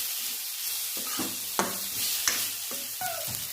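Cumin, coriander, garam masala and turmeric powders sizzle in a pan for mushroom curry, stirred in a few short scraping strokes over a soft frying hiss.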